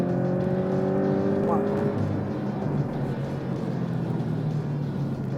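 A Porsche 718 Cayman T in Sport Plus mode pulls hard through its gears on a track, its engine note climbing steadily and loud throughout, with someone talking over it.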